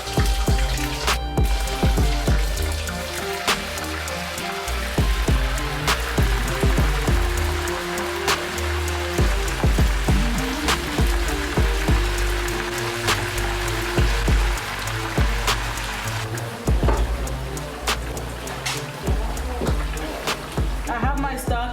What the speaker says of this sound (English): For you to know your oil is hot, you want to hear that sizzling sound